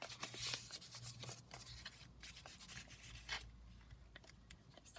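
Quiet rubbing and soft papery scraping as paper is folded and pressed down over glue while making a junk journal, a close, faint run of small rustles and strokes.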